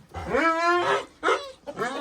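Dogs barking and yelping close by in a short burst of harmonic, whining barks, a sustained call followed by two quicker ones, at a rural spot where new chickens are being bought.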